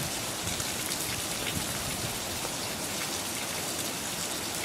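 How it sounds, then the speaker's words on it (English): Heavy spring rainstorm with rainwater gushing from a house gutter and flowing down a driveway, a dense, steady roar of rain and water without pause or voices. "about one half the house of rainwater is coming out that gutter right there and flowing down the driveway"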